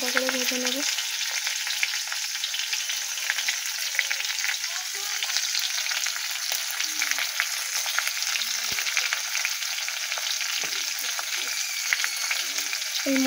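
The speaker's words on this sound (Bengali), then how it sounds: "হালকা করে ভেজে নেব, বেশি বেশি কড়া করে ভাজবো না" Prawns sizzling gently in oil in a pan for a banana flower curry, a steady bright frying hiss running throughout, with faint stirring clicks and a brief low voice at the very start and end.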